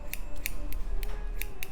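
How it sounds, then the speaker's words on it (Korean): Scissors snipping hair during a men's haircut, close and crisp, about six separate sharp snips in an irregular rhythm against a quiet room, with no talking. "그냥 노텐션으로 가위로 잘라도 되고"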